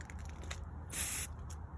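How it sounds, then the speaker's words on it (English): A spray paint can sprays gold paint onto glass in one short hissing burst, close and fairly quiet, outdoors on a windy, cold day. "So I'm going to spray the whole glass gold."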